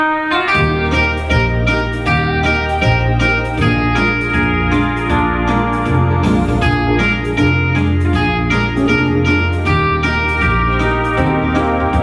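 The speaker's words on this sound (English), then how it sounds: "what it's going to do is introduce those harmony notes one at a time." Keyboard block harmony with a Cascade setting that brings in the harmony notes one after another, giving a dense, rippling stream of loud, continuous chords and melody.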